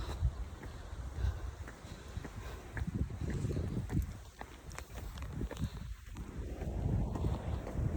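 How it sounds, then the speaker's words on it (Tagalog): Gusty wind buffets the microphone in low rumbling bursts, with a steady roar building toward the end. "Lakas ng hangin, malamig."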